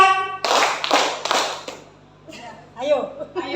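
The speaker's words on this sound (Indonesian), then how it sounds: "Mari kita tepuk tangan untuk diri kita hari ini sama-sama." A group applauds together in a short burst of dense clapping that fades out. Scattered claps and voices follow briefly.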